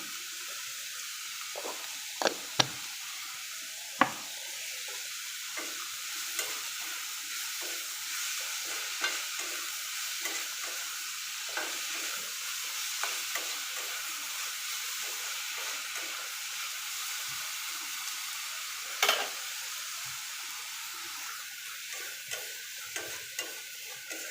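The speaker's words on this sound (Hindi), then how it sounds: "आपणकर पियाजटा जल्दी से भाजी हो।" Onions fry with a constant low hiss in a pan for a mushroom dish, broken by occasional sharp utensil taps and scrapes, close and without talking.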